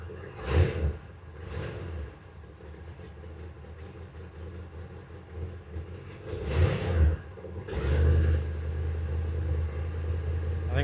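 A 1967 Mercury Monterey engine with a misfire idles low, then gets several short throttle blips that swell and fall back, followed by a longer rev that holds before settling; close and without talk.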